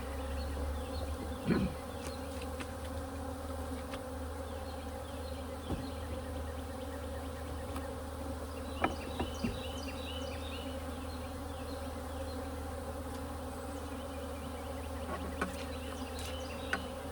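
Honey bees swarm and hum around a beehive during a Demaree hive setup, a steady close insect drone running throughout with a few louder individual buzzes passing near.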